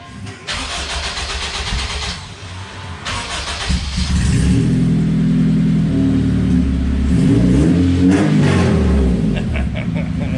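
A Honda K20A2-swapped Civic EG hatchback with a new MagnaFlow exhaust starts and revs loudly, its deep exhaust rumble swelling and dropping through several throttle blips, close by.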